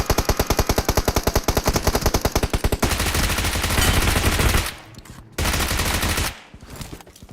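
Gunfire in the mobile battle royale game PUBG Mobile: a loud, rapid stream of evenly spaced automatic shots, then dense overlapping bursts that stop and restart, with no talk over it.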